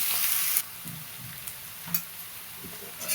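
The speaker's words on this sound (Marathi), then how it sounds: "बघा चांगला कांदा अजूनमधून परतून घ्यायचा खालीवर अजूनमधून परतून घेतलं ना चांगलं" Onion stir-fries in a pan toward golden brown for a ghol bhaji dish, a soft continuous sizzle with intermittent scraping and stirring strokes spaced across the span, fairly close and quiet.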